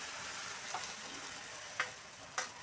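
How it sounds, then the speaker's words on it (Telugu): Bread omelette frying in oil in a hot pan gives a quiet, steady hiss with a couple of soft clicks or taps partway through. "ఇంకా వేడైనాక మళ్ళీ కొంచెం ఆయిల్ వేసుకొని ఆమ్లెట్ వేసుకోవాలి"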